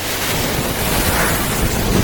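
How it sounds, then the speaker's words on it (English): A burner flame roaring while melting gold, a loud, continuous, rough rushing roar with no breaks, close to the microphone, and no talking. "Here comes the burner."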